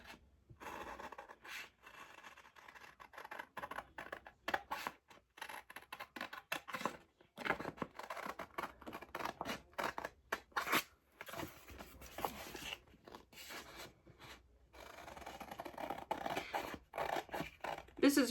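Scissors cutting out wallpaper for a framed craft picture, heard as quiet, irregular snipping and rustling paper up close over a long stretch, with faint talk at times.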